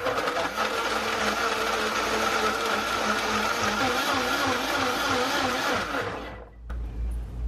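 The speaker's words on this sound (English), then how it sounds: "Okay, you guys, I'm gonna close this lid." A kitchen blender running with its lid closed, a loud, steady whirring roar that wavers slightly in pitch for about six seconds, then cuts off abruptly, leaving a short quiet tail.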